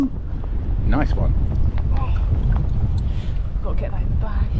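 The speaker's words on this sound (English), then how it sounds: "Very windy." Steady wind buffeting a microphone outdoors while mudlarking on a river foreshore, a constant low rumble under people talking.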